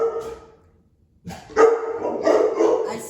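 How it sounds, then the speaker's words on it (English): Dogs bark loudly and close by, with a short yip first, a brief quiet gap, then a rapid run of overlapping barks that continues to the end. "If for some reason the dogs start barking"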